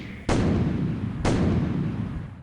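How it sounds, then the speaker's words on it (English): Two loud booming blasts about a second apart in a video game emergency training simulation, each striking sharply then rumbling on and fading slowly. "I think we've had a major explosion, a terrorist attack at the bank here."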